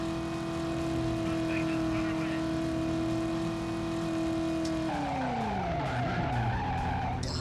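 A car skidding out of control in the driving video game Driver: You Are the Wheelman, a steady engine drone that breaks into a sliding tire screech with a falling engine pitch near the end, loud and continuous.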